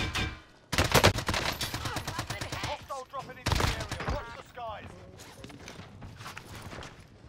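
Gunfire in Call of Duty Warzone Rebirth, loud bursts of rapid automatic shots mixed with game effects and players talking over voice chat.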